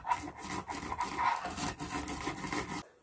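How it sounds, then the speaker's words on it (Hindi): Roasted fenugreek, fennel, cumin and mustard seeds being coarsely ground on a silbatta grinding stone, giving a steady rough scraping and rubbing that repeats in quick strokes for about three seconds, close and moderately loud, then stopping abruptly. "अब हम इसको पीसेंगे सिलबट्टे में दरदरा करके"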